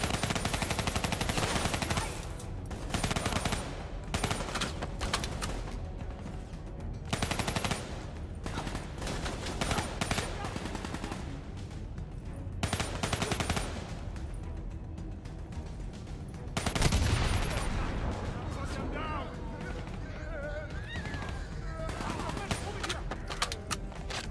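Automatic gunfire in Call of Duty Black Ops 3 campaign combat, bursts recurring through a dense battle mix with a voice calling out at times.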